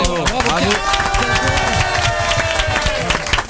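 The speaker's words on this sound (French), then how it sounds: "Est-ce qu'on peut applaudir Clément?" Studio audience clapping and cheering for Clément on an NRJ radio show, a dense burst of applause with voices talking and shouting over it.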